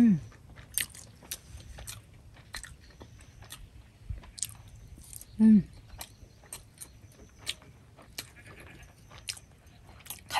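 Someone eats lobster at a rainy solo campsite on a ranch, with soft, close chewing and scattered crunchy bites over quiet background, broken by two short vocal sounds.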